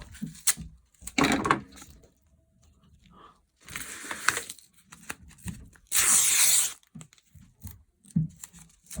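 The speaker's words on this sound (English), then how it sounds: "Look at these long, thin pieces of tape I'm prepping." Long thin strips of tape being pulled and torn off a roll while preparing a mask, giving several bursts of loud ripping with quieter handling noises between them, near and clear, with no voices.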